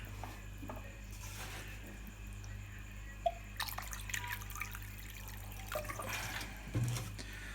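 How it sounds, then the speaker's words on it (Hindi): Water is poured into a pot while a Mahua liquor brew is prepared, giving a faint, uneven trickle and splash over a steady low hum, with occasional clinks. "थोड़ा सा पानी और ऐड करते हैं इसमें।"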